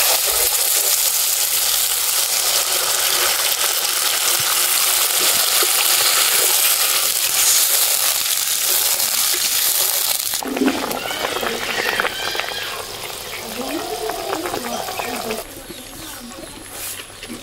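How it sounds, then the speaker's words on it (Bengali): Spiced potatoes frying loudly in a pan give a dense, steady sizzle, then water goes in and the hiss breaks into softer bubbling and simmering; a voice talks over it. "মশলা কষানো হয়ে গেছে, এবারে জল দিয়ে দেব।"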